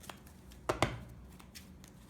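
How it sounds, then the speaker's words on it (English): A deck of Yu-Gi-Oh cards is shuffled by hand, quiet riffling with two sharper snaps near the start, faint and close, with no talk. "Alright, shuffle the deck."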